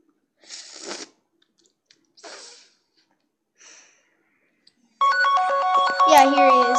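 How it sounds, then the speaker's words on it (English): A phone rings with an incoming call, its loud electronic ringtone cutting in abruptly and continuing after a few short, soft breaths or vocal sounds. "Beeping noise was actually someone else calling."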